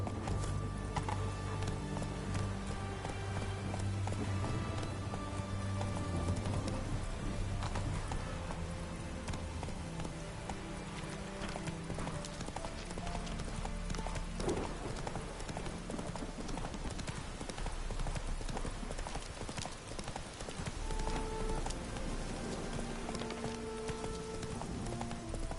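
Horse hooves galloping in The Witcher 3 video game, a rapid, continuous clip-clop rhythm near and loud throughout, with occasional game sounds layered over it.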